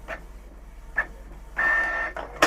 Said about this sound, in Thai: ตอนนี้ก็พิมพ์ออกมาแล้วครับจะเป็นภาพขาวดำนะครับ